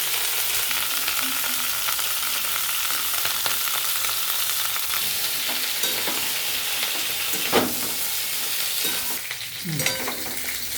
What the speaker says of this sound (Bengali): প্রথমে কপিগুলো ভেজে নেব।